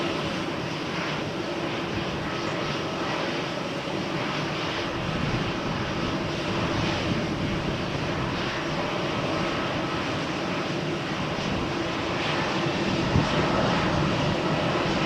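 A Vueling jet waits on the ground at Malaga Airport on a stormy morning, its engines a steady, loud, broadband roar that holds level throughout.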